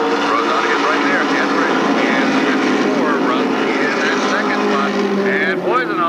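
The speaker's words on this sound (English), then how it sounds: "Throttle is down, and the veteran Rosati leads them off the turn." Pro Stock race cars racing at Stafford Speedway in 1993, a loud, dense wall of engine roar with overlapping rising and falling pitches as cars pass, and an announcer talks over it.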